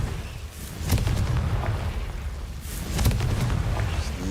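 Confringo fire-blast spells in the video game Hogwarts Legacy go off as two booming bursts, about two seconds apart, each rolling into a noisy rumble over steady game ambience. No voices are heard.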